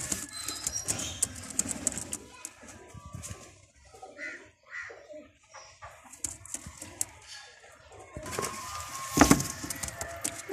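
Soft low cooing from Rampuri pigeons comes and goes with some rustling, fairly close, then a louder burst of fluttering and knocking near the end.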